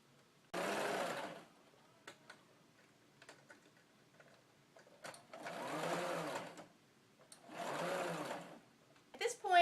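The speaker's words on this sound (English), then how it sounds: "I'm going to sew up the side, straight stitch." Sewing machine running a straight stitch up the side of a large apron pocket, three separate close bursts of rapid whirring, each a second or two long, with quiet clicks and handling noises in the pauses.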